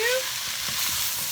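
Sausages and leftover ham with pasta frying in a pan while being stirred, a bright continuous sizzle with soft scraping movements, short and close.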